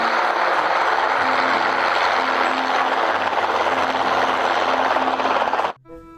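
Helicopter rotor and engine noise fills the clip with a loud, steady, pulsing roar that cuts off abruptly near the end.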